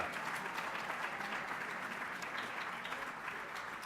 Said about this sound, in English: How about a nice round of applause for them one more time?